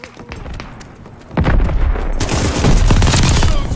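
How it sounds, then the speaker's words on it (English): Mortar rounds land in a Call of Duty Vanguard match: heavy low booms and crackling blasts build into a dense, loud barrage with rapid gunfire mixed in. "Mortars incoming."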